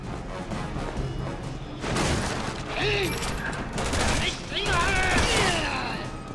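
Explosions go off in Resident Evil 6, a run of loud crashing blasts and gunfire-like bursts in clusters at moderate distance, with game voices and effects around them.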